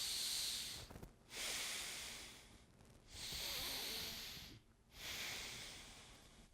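Slow, deep breathing during a shoulder stretch, with three long, hissy breaths close to the mic, each separated by a short pause.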